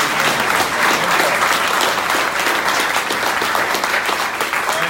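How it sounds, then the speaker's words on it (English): Steady, dense applause from a large audience at a political gathering, continuous and even in loudness throughout. "Let's give him a big round of applause."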